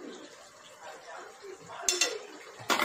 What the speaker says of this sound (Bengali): এখন একটু ভালো করে নাড়াচাড়া করতে হবে